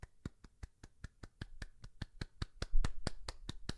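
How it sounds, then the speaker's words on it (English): A slow golf clap of about twenty soft, evenly spaced claps, light and close, with faint background noise underneath and no talking. "you get a little bit of a golf clap for good measure"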